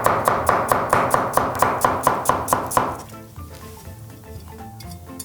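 A knife slices an onion into strips on a board: about a dozen crisp, evenly spaced cutting strokes, close and fairly loud, then stopping into quieter kitchen handling noises.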